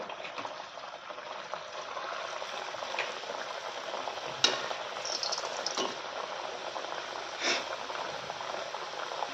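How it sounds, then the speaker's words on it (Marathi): Sweet pumpkin puris (gharge) fry in hot oil over a medium flame, giving a steady bubbling sizzle with a few sharp pops and crackles as the dough hits the oil, close and continuous with no talking. "तेल चांगलं तापलं आहे आता तळायला घेते दोन दोन टाकते"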